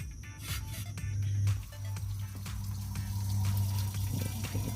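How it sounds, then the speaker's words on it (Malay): Coolant water drains in a steady, gurgling stream from the bottom of a Perodua Kancil radiator during a radiator and thermostat service, a close, continuous pour with no talking. "Kita buang air kat bawah dulu dalam radiator."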